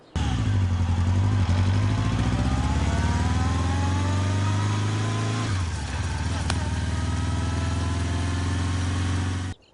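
A new motorcycle's engine runs loud and close, a steady idling drone that slowly rises in pitch as it revs, then dips and settles before cutting off abruptly near the end.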